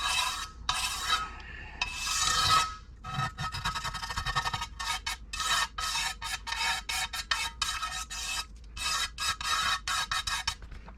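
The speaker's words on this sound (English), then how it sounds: "I'm going to get a blade because it's got some rust and things on there." A small blade scrapes rust off a Cadillac Escalade differential in quick rasping strokes, a long pass first and then a rapid series of short scrapes, close and clear with no talking.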